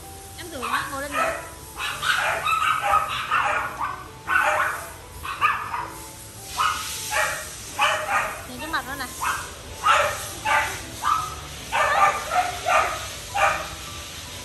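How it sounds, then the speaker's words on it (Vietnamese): A dog barks repeatedly in a home during bath time, a series of sharp yips and barks with some whimpering, close and loud, while a person talks over it. "sủa đây, sủa đây, sủa đây, sủa đây, sủa."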